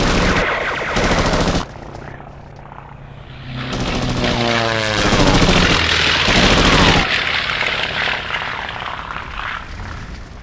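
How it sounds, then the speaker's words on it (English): Rapid bursts of 20mm cannon fire from a CFCS aircraft in a flight game mod, loud and dense, with a roaring engine and rattling shots building over several seconds. "the CFCS had a far higher rate of fire than most weapons in the period, so quite a rapid fire"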